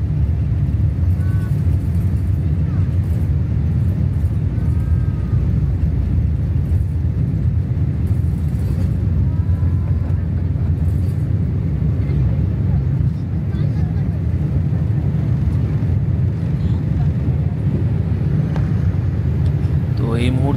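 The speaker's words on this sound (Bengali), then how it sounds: "বিমানের ইঞ্জিন গর্জে উঠছে, ধীরে ধীরে আমরা রানওয়ের দিকে এগোচ্ছি।" A jet airliner's engines roaring steadily as it taxis toward the runway at night in Zurich, a constant loud low rumble heard from inside the cabin, with faint talk beneath.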